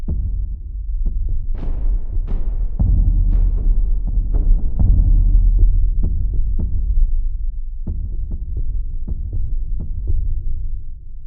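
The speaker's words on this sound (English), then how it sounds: "So you can really get like a heartbeat sound from there." Low heartbeat-like percussion hits from an orchestral sample library's low drums and boomers play in a slow, steady throbbing pulse, deep and loud, with a rumbling tail between beats and no voices.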